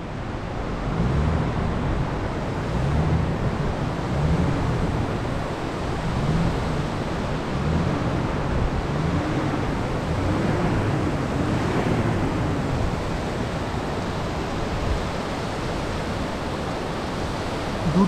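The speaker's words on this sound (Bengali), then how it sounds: "অনেক উঁচু থেকে একটা ঝর্ণা নেমে আসছে পাহাড়ের গা বেয়ে" A mountain waterfall tumbles down a high rocky slope beside the Pamir Highway near the Afghan border, making a steady, dense roar that stays loud and unbroken throughout with no voices.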